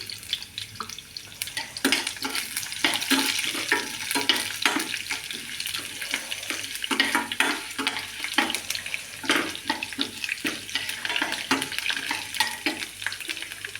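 Chana dal, urad dal and mustard seeds frying in hot oil for a ridge gourd chutney, giving a continuous close crackling sizzle with frequent sharp pops and spatters throughout.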